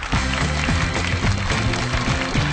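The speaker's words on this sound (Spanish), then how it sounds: "Un fort aplaudiment per Mario Casas!" A television studio audience applauds steadily for a guest actor, dense continuous clapping throughout with a few sharp individual claps standing out.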